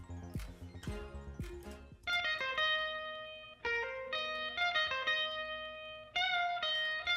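Dry guitars in a mixed beat, heard without any delay effect: a few quick strummed hits, then sustained bright chords that restart in sections, loud and alone with no talk.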